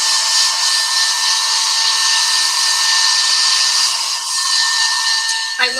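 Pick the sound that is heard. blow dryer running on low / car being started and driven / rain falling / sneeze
blow dryer running on low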